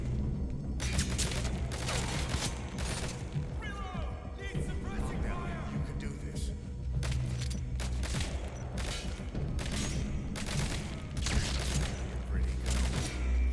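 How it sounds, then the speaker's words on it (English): Gunfire in Metal Gear Solid V: The Phantom Pain crackles in repeated bursts and volleys, sharp shots scattered across the whole stretch with booms and a low rumble underneath. "If you wait long enough, he should shoot them both"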